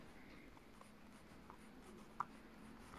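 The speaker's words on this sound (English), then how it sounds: "now I'm just going to try and write something with it." A Sanrio Pom Pom Purin pen writes on paper, a very faint soft scratching with light taps and one small click, close up in a quiet room.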